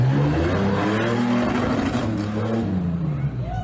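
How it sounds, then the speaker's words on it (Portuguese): Cars race at high speed along a street used as a racetrack, their engines roaring loudly and shifting in pitch as they pass close by. "Carros em alta velocidade."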